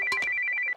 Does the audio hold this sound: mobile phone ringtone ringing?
yes